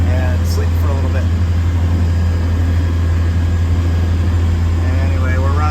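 A sailboat's auxiliary engine motors along at over 6 knots on a coastal passage from Beaufort to Charleston, giving a loud, steady low drone that holds unbroken throughout, with faint voice-like sounds drifting over it.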